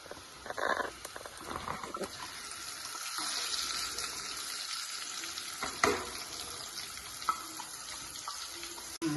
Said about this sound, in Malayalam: ഈ സമയത്ത് നമുക്ക് ഈ മുളക് ഇതിലേക്ക് ഇട്ട് കൊടുക്കാം